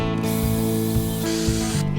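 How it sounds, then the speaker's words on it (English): A Ninja blender whirs steadily as it grinds powdered sugar, almond flour and salt into a fine mix for macarons, a loud continuous motor drone with a rough grinding hiss and pitch shifts as the load moves, no talking. "Then we blend the powdered sugar, almond flour, and salt in our trusty Ninja blender to make it very fine."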